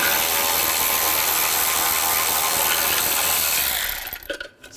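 Loose, rapid mechanical clicking while a 10mm bolt holding the horn is worked off a 2011–2014 Chrysler 200 during headlight replacement; a steady close-up ratcheting rasp that cuts off abruptly near the end.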